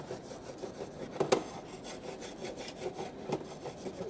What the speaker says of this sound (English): Scrape off some of this little excess scale here